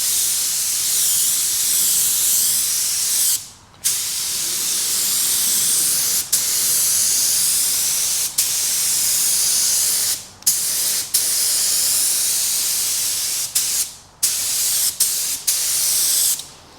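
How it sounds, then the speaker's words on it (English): Compressed air hisses loudly and steadily from a paint spray gun drying a car spot repair in cold weather, in long continuous blasts broken by several brief pauses, close up with no talk. "I'm using the air from the gun to dry it up a bit."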